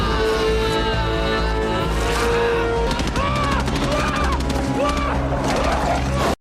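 Rapid bursts of gunfire and crashes ring out in the 1997 sci-fi war film Starship Troopers, loud and dense under a driving orchestral score, with shouting voices mixed in.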